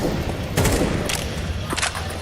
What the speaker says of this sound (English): It's just pistols, Chad.